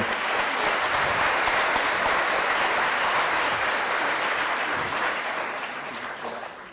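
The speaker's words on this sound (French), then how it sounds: "Je crois qu'il mérite des applaudissements" Sustained applause from an audience at a school cultural event, honouring a second-year student. The clapping is dense and steady for several seconds, then tapers slightly toward the end, with no speech over it.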